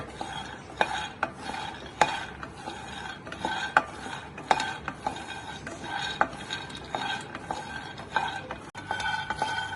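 Peanuts dry-roasting in a pan over a low flame for Tamil kadalai mittai, stirred continuously: steady scraping and rattling of nuts against the metal, with a spoon clinking at an irregular rhythm, close and alone with no voices.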